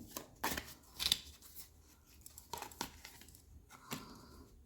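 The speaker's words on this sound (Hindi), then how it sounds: "और एक कार्ड निकाल लेती हूँ।" A tarot card slides out of a shuffled deck, a few dry papery snaps and rustles near the start, then softer scattered card handling and brushing sounds close by, with no talking.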